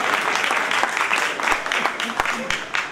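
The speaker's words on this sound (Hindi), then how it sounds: "जोरदार तालियां मारना" Audience applause at a live Punjabi duets music night, a steady burst of many hands clapping together, loud and sustained, with a few voices faintly underneath.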